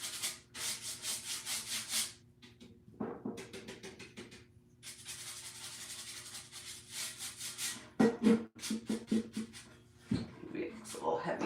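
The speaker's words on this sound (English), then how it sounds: "I barely have any wax on my brush right now, so this is just like, basically like a dry brush" A lightly loaded wax brush dry-brushed across painted farmhouse furniture, giving soft, scratchy rubbing strokes in irregular bursts with short pauses between them, close and moderately quiet, with a voice talking over parts of it.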